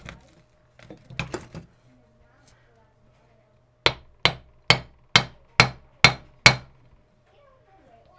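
Hammer tapping a U-joint into place on a Jeep Wrangler TJ front driveshaft: seven sharp, evenly spaced metallic strikes ringing close and loud, preceded by a few softer clinks and handling noises.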